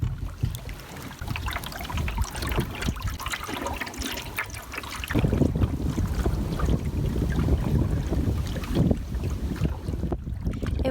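Canoe paddled on an overcast Algonquin lake, with steady water wash and gurgling strokes plus low wind rumble, continuous and close, no voices.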